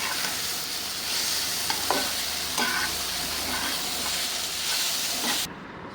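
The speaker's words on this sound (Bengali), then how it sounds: "আমার শাক ভাজিটা হয়ে গেছে" Kalmi greens sizzle in a pan, with a steady soft fry and a few scraping stirs of the spatula, heard close and fairly quiet until the sound cuts off at the end.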